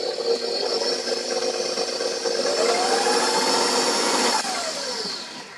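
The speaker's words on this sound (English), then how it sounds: "I'm going to give it one more quick mix." Stand mixer with a paddle mixing gluten-free wild blueberry and lemon crumbcake batter, a close whirring motor with a whine that shifts in pitch over a few seconds before winding down.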